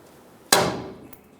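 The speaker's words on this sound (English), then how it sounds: "sometimes you can come up top here on that castle nut and hit it with a hammer" A single sharp metallic clang as a hammer strikes the castle nut on an inner tie rod of a 1992-1996 Ford F-150. The hit is close and loud and rings out for nearly a second, followed by a faint second tap.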